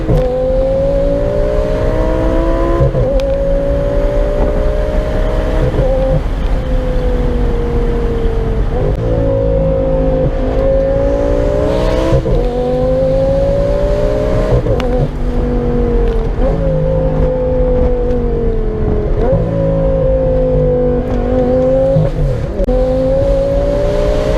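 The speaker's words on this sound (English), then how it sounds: "I noticed like every single time it did change gear, the car got faster and faster." A twin-turbo Lamborghini Gallardo built by Underground Racing roars hard and close, its engine climbing in pitch through repeated gear changes, each shift a brief dip before the next rising pull, loud and continuous with no talking.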